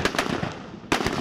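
Gunfire during Elite Police firing practice at a training school in Bedian, Punjab: several sharp, cracking reports in quick succession, with one especially strong bang near the end, ringing out at moderate distance.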